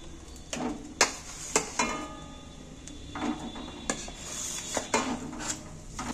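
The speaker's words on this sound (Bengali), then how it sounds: "আমি এবার তালটা কোড়ার মধ্যে তুলে দিচ্ছি।" Palm fruit pulp is scooped into a metal wok, with close clinks and scraping clatter of a utensil against the pan, some sharp knocks standing out from a soft background and no talking.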